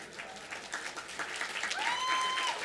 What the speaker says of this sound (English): I'm afraid I'm going to have to make you practice clapping